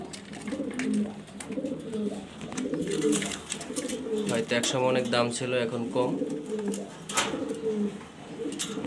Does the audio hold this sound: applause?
no